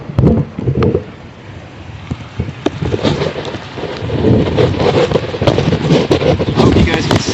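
Heavy hurricane rain in Florida pours down in a dense, loud wash with gusty wind buffeting the microphone and irregular sharp spatters.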